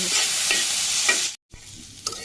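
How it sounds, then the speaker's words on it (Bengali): Onions fry in a pan, a bright hissing sizzle broken by stirring scrapes, cut off by a short silence before the quieter sizzling returns. "এই যে পেঁয়াজ বাজিয়ে গেছি বাজি বাজিয়ে অল্প একটু হয়ে গেছে"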